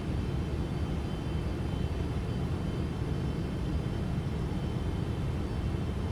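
Steady, loud jet engine roar from an airliner on landing approach to London Heathrow in the X-Plane 12 flight simulator, a continuous even drone with no talk.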